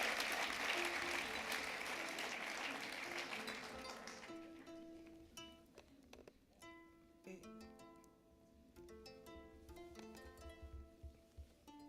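A live concert audience at an acoustic duo's kora and guitar performance applauds warmly, broad steady clapping that tapers off after a few seconds as plucked string notes and tuning come through, with brief talking underneath.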